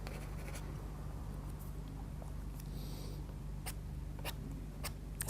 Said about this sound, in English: Maybe down the bottom here we might scrape in a few scribbles and lines